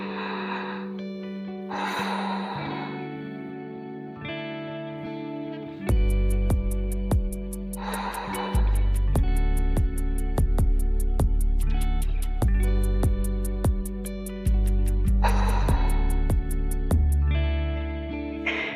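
Slow, deep breaths are drawn during a held yoga posture: about three long inhale-exhale swells, spaced several seconds apart, heard over soft background music.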